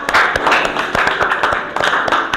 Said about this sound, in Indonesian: Tepuk tangan untuk Reno.